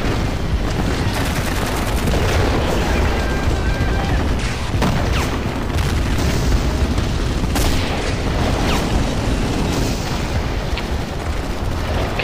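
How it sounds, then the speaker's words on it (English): Tank guns firing HEAT rounds in the World War II strategy game Men of War, with heavy booms and blasts repeating across a loud, dense battle soundscape while a voice talks over it. "making the mistake of firing heat rounds as opposed to the armor piercing variety"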